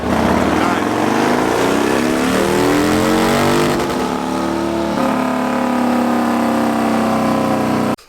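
A Harley-Davidson Milwaukee-Eight (M8) engine with a performance cam revs hard on a dyno pull, its loud tone climbing quickly and then holding high and steady before cutting off sharply at the end.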